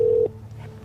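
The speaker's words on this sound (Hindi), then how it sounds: "रियांश ने आरोही को फॉलो करते हुए अपना फोन निकाला और मानव को कॉल लगा दिया" A brief phone tone cuts off abruptly as a call is placed, followed by a quiet low hum; short and fairly clear with no speech.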